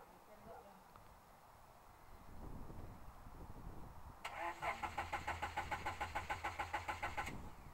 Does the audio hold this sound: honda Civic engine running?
yes